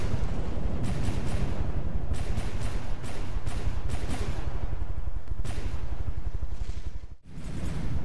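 Cannon turrets fire in From The Depths, a dense, continuous barrage of booming shots in rapid rhythm, loud and rumbling throughout with a brief dip near the end.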